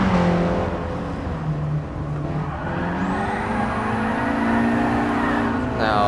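Nissan 200SX S13 with a drift setup, driven aggressively on the Nordschleife in Gran Turismo Sport, its engine revving and surging steadily with shifting pitch and tire squeal rising near the end, loud and close.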